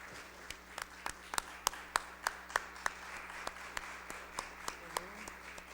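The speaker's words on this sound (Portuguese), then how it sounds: "Todas as palmas para a Inaldete." Applause at a solemn ceremony for Black Consciousness Day: a sparse, rhythmic patter of separate hand claps from a small crowd, steady for several seconds and then thinning out.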